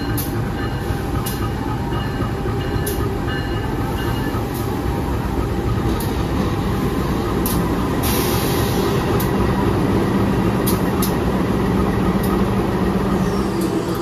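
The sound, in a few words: Kahuripan passenger train at Kertosono station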